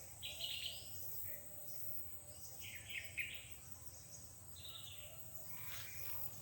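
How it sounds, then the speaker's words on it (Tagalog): Birds chirp in short bright bursts around a rural area in Minsapinit, Gingoog City, Mindanao, Philippines, fairly faint and at a moderate distance, over a soft insect drone with no talking. "narinig nyo po ba yung mga huni ng ibon?"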